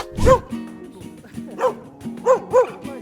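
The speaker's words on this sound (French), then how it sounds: "Donc là, j'aboie parce que je ne suis pas rassurée." A dog at a dog-training session gives several short, close barks and yips, one sharp burst followed by a few spaced barks.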